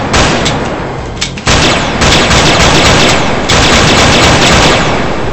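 Rapid automatic gunfire blasts in loud, dense bursts, a continuous rattling fusillade broken by a brief pause before resuming at full force.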